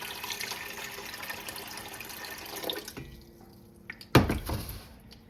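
Plain tap water pours steadily into a pot of chicken and coconut water soup base, a continuous splashing rush that stops and is followed by a brief clatter and splash near the end.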